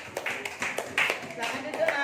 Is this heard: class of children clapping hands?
yes